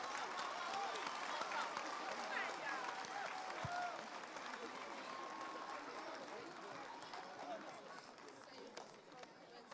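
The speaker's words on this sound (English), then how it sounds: "Let's give the choir a round of applause," A graduation audience in a large hall applauds the choir, steady dense clapping with crowd murmur that eases slightly toward the end, heard from within the crowd, faint.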